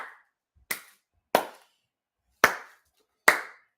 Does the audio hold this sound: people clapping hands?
yes